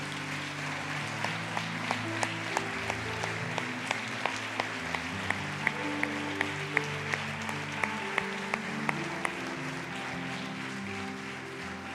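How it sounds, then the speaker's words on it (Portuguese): A church congregation applauds steadily for about twelve seconds, dense clapping over a sustained musical keyboard backing, with a few sharper individual claps standing out. "você desse um grande aplauso a Jesus pela vida dos que estão trabalhando"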